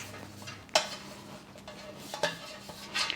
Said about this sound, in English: in this square baking dish, I'm just going to spread a little bit of olive oil around the base